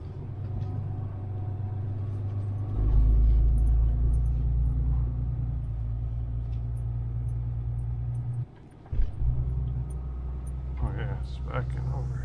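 A car rolls slowly up a long rural driveway to a job site, its engine a steady low rumble with tire crunch, easing off briefly near the end before continuing.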